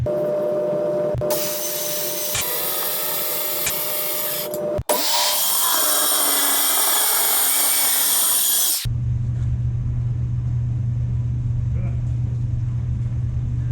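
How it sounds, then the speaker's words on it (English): A wood saw blade on a power saw cuts through aluminum with a loud, harsh, sustained whine. It runs in two long passes broken by a brief gap, then gives way to a lower hum. "Just a normal wood blade cuts aluminum like really good."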